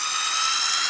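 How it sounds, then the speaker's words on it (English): An impact driver runs continuously while driving into wood for a sofa-height table build, a loud high-pitched whine held steady without pause for the whole second. "I'm just using my impact driver to do this"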